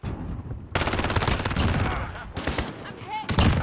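Shotgun gunfire in the Call of Duty Modern Warfare video game, a loud burst of rapid close shots and heavy blasts with brief gaps, followed by a couple more sharp reports.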